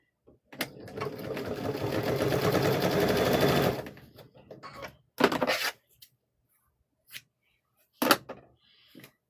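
Sewing machine running a quarter-inch seam across the top of a 2.5-inch quilt strip: one steady, close whirring burst of stitching lasting about three seconds, followed by a few short, sharp handling clicks and taps.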